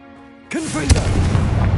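Confringo fire-blast spell in Hogwarts Legacy: a quiet tonal hum gives way to a sharp whooshing launch and a booming explosion, followed by a lingering rumble.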